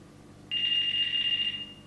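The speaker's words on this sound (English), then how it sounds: "phone ring" A flip mobile phone rings during an analogue AMPS cellular tester paging test, a single steady electronic ring tone that starts abruptly, holds for about a second, then fades, close and clear over a faint hum.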